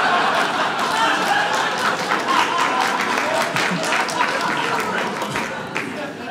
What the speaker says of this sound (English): Everyone cheering just sounds like a condescending dad.